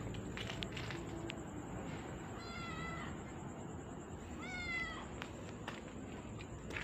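A cat meows twice, short distinct calls rising and falling, fairly faint against a steady background hiss and high whine outdoors at a cemetery at night.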